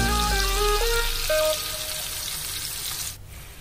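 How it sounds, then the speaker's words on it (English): Butter and heavy cream sizzle in a pan: a dense bubbling hiss with a stepped, falling whine over it, cutting off abruptly near the end. "At the same pan, we put 1 tablespoon of butter and 4 tablespoons of heavy cream"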